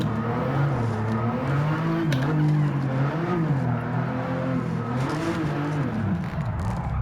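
A car in Gran Turismo 7 slides through a corner, its engine droning and wavering in pitch as it revs, with tire noise running under the loud, steady mechanical sound for several seconds.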